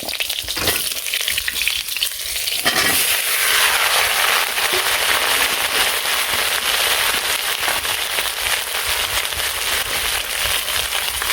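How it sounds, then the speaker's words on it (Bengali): Chopped bottle gourd hits hot oil with a sudden loud, crackling sizzle that settles into a dense, continuous frying hiss, close up in a village kitchen, with occasional stirring and no talk. "এই দেশি লাউ দেওয়ার জন্য দেশি লাউ লাগে তেলে ভেজে দিই।"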